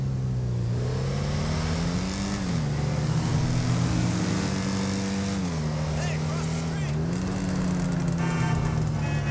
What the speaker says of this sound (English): Listen to the exhaust note.